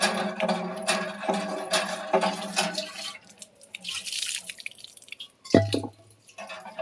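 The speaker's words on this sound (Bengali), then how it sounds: "জলটা আমি এখন ধরে নিই।" Water runs into a clay pitcher (kolshi) outdoors, a loud splashing, gurgling stream that thins into quieter dribbles and ends with a hollow thud.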